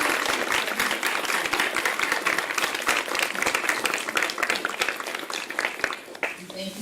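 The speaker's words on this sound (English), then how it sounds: "Can we have a round of applause for" Audience applause at a talk on the criminalization of reproductive decision-making, a sustained round of clapping from a crowd with speech mixed in.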